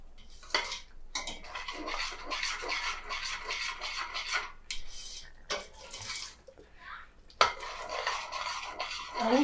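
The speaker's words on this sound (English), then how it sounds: "I'll continue to stir because egusi is not expected to get burnt" Egusi frying in oil in a pot for Nigerian egusi soup, stirred continuously with scraping and rubbing sounds, close and steady with brief pauses between strokes.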